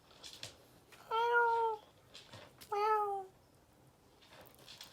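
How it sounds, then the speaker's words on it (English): A pet cat meows twice from the other side of a door while trying to get into the room, each cry drawn out and fairly close, with quiet shuffling between them. "That's the kitty trying to crawl its way in while I'm filming."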